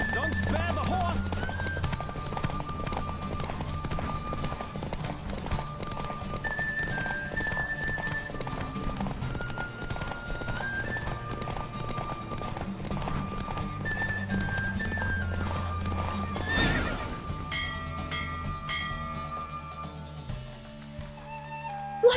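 A horse gallops in a race in the video game The Witcher 3: Wild Hunt. Rapid, steady hoofbeats run throughout under game music, with a soft break near the end.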